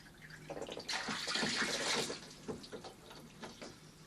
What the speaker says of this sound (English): You'll notice that initially water jets in and then it slows down.